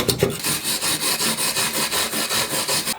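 Loose rust is scraped off a metal part from an RCA Victor 26BP radio in rapid, regular back-and-forth rasping strokes, loud and close, with no voices.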